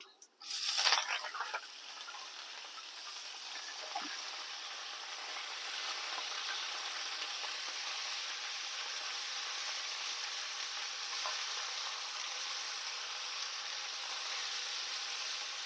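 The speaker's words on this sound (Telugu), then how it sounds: "ఓకే మరి పోయింది పోపు" Tempering spices hit hot oil in a pan with a sudden burst of sizzling, then settle into a steady, close frying hiss that continues evenly to the end.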